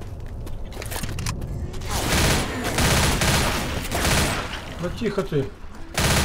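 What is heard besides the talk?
gunfire in Left 4 Dead video game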